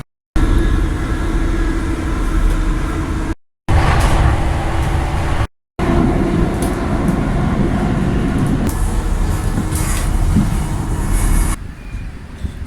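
Steady rumble of a passenger train running from Liverpool Street to Ipswich, a continuous close interior drone with brief cuts, loud and sustained without talk.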